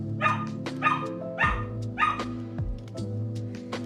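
A dog barks repeatedly indoors, several sharp woofs in an uneven rhythm, fairly close, with some whiny yips between them.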